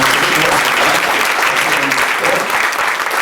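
Loud, dense applause from a congregation at a 2003 prayer meeting in a hotel hall, continuous clapping filling the entire span, close and full.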